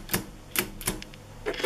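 Keys of a Soviet VMM-2 mechanical calculating machine pressed to enter a number, a handful of crisp, spaced mechanical clacks with short rattles between them, close and moderately loud, with no talk.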